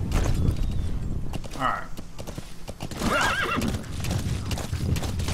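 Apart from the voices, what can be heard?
horse hooves clip-clop in video game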